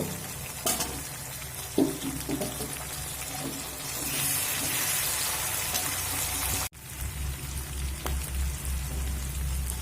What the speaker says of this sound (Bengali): দেখুন চিংড়ে মাছ আমি পেঁয়াজের সঙ্গে ভেজে নিয়েছি